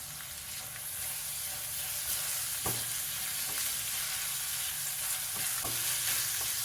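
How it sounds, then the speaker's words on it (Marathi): Chopped onion frying on a high flame for a Maharashtrian-style baingan bharta, a steady loud sizzle with a few sharp spoon scrapes and taps against the pan. "कांदा टाकल्यानंतर गॅसची फ्लेम हाय ठेवायची हाय फ्लेमवरती कांदा मिडियम भाजून घ्यायचा"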